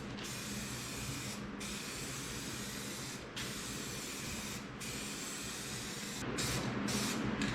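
Primer sprays from a rattle can onto the interior of a 1961 wagon in long continuous hissing bursts, each cut off by short pauses, close and steady.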